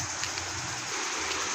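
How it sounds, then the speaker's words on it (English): Small waterfall outdoors giving a steady, soft rushing splash, continuous and moderately faint, with no talk over it. "This is just a mini waterfall."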